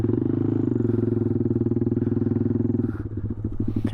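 A 2018 Honda Grom motorcycle runs steadily close by, its small single-cylinder engine putting out an even, pulsing drone that shifts pitch near the end as it pulls away.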